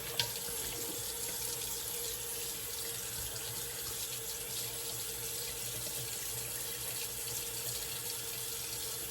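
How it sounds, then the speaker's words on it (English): Cold or warm water runs steadily from a bathroom tap during a rinse before an alum block in a wet shave, a continuous broadband hiss with no break. "Still using the cold water / warm water for the initial rinse"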